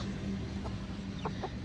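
Aseel chickens on a farm give a few short, soft clucks, two brief calls clustered near the end over a steady low outdoor hum, with no voices.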